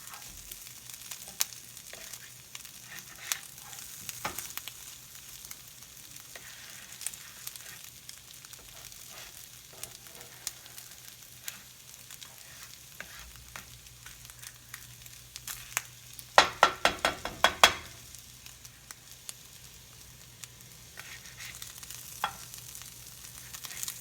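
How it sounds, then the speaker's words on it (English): Steady, quiet sizzle of rolled eggs frying in a pan, with scattered crackles and a brief louder burst of popping partway through. "Oh, I hear some more sizzling though."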